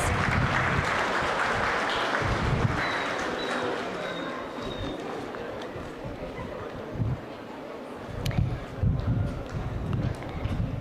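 Sustained applause from an audience at a college commencement ceremony, a steady dense clatter of clapping throughout with brief louder bursts toward the end.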